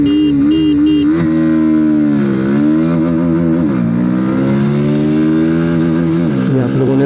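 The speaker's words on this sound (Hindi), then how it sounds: "अब NS160 का भी यहाँ पर हम लोग एक्सेलरेशन टेस्ट कर ही लेते हैं। फर्स्ट गियर पे मैंने डाल दिया है।" A Bajaj Pulsar NS160 motorcycle accelerating hard from first gear in an acceleration test, its loud close engine note rising in pitch through repeated gear changes, with brief dips between shifts and no talk.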